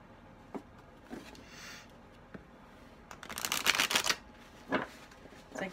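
A Moonology oracle card deck being shuffled by hand, with scattered soft riffles early on building to a louder, denser burst of card flutter in the middle and a final brisk shuffle, close and alone.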